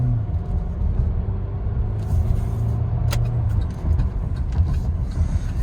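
A 2019 Buick Regal TourX accelerates at half throttle, its engine a low steady rumble heard from inside the cabin, with road noise and a few faint clicks on top.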